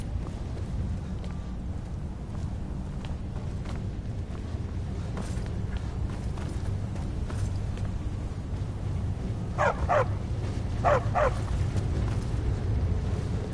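In Skyrim, a dog gives a few short yips and barks over a steady low ambient background. A couple of paired barks stand out near the end. No one speaks.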